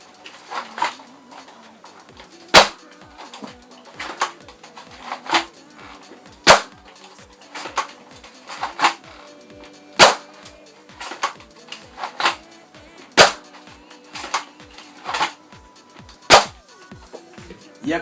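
A modded Buzz Bee Air Max 6 dart blaster fires foam darts in a string of sharp, loud snapping pops at uneven intervals, each followed by a short mechanical rattle, nearby and with no talk.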